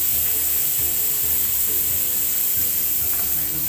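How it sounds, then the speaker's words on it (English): Pork for namtok sizzles steadily on a grill, a dense, continuous crackle of frying fat that stays loud and even throughout, with faint tonal hum underneath. "We grill it until the pork's almost done, not completely cooked."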